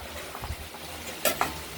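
Potatoes and onions fry in a pan for a ridge gourd and poppy seed curry. A low, steady sizzle is joined near the end by two sharp clinks of a utensil against the pan.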